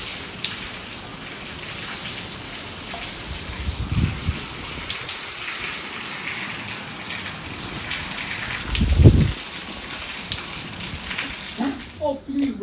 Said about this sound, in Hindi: पिछले 2 दिनों से काशीपुर में बहुत बारिश हो रही है।